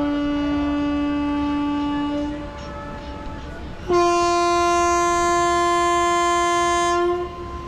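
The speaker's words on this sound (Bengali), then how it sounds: "ছেড়ে দিল ট্রেন।" A local train on the Sealdah–Darjeeling run pulls out of a near-empty station, its horn blaring loud and sustained in two long blasts separated by a brief pause, with rail noise underneath.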